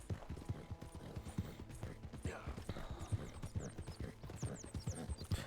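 Horse hooves clip-clop steadily in Red Dead Redemption 2, an even walking rhythm of hoofbeats with faint bird chirps and ambient game sounds behind.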